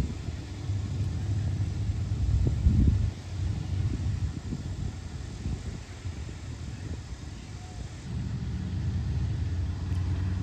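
Harley-Davidson motorcycles, a Heritage and a Dyna, ride up on a road, giving a steady low engine rumble with wind noise that swells briefly before settling back to a constant drone.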